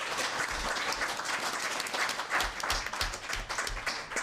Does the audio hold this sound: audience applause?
yes